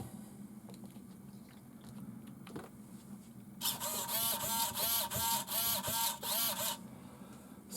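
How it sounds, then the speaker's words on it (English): RC car servo on a King Kong RC Q157 4x4 Mud Monster kit whirs after the electrics are connected, a close, buzzing motor burst lasting about three seconds with rapid pulsing in it, over quiet background. "Servo's okay."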